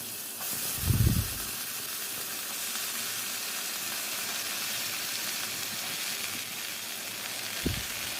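Vegetables tipped into hot oil already crackling with panch phoron and bay leaf, a steady broadband sizzle throughout with a soft thud near the start and another toward the end, close and alone without talk.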